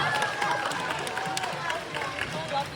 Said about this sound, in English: give yourselves a round of applause for coming out today